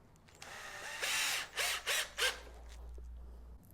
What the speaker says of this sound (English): Now I'm going to drill 8 screws into this whole thing, so 1 in each corner of the rubber mats.